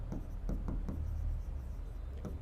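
Faint, close scratching of writing on a surface, with short quiet strokes repeating in an uneven rhythm against a soft background hiss.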